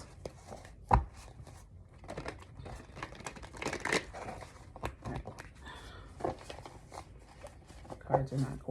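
Tarot cards riffle and slap together in uneven, awkward bursts of shuffling, close and crisp, mixed with soft handling noises and occasional sharp taps.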